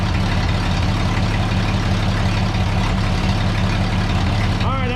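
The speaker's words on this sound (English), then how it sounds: "That's the original engine. That's a 1932. Makes 50 horsepower." An original 1932 engine making 50 horsepower idles on a rat rod, a loud, steady, low throbbing rumble that holds constant throughout, close by, with a brief voice near the end.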